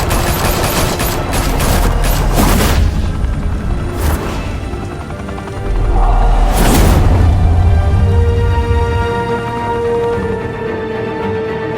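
Gunfire in the Batman Telltale video game: loud bursts of rapid automatic shots in several separate volleys, with booming impacts and a tone sweeping underneath.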